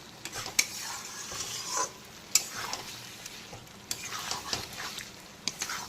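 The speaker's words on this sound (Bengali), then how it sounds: "আবারও কষিয়ে নেব, যাতে আলুটা ম্যাক্সিমাম সেদ্ধ কষাতেই হয়ে যায়" Potatoes for a prawn curry being stirred and sautéed in a pan over medium-high heat, with soft sizzling under repeated scraping strokes and clinks of the spatula against the pan.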